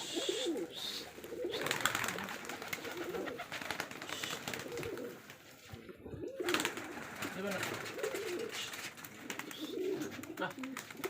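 Rajshahi Giribaj pigeons at a large farm coo in low, overlapping throaty rolls from many birds, steady and close, while someone talks over them throughout.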